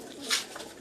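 A Teddy pigeon coos once, a short muffled burst close by, with faint background noise before and after.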